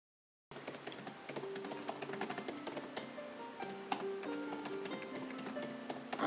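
Steady typing on a keyboard, a continuous run of quick, close, crisp key clicks with small pauses, heard alone without any talking.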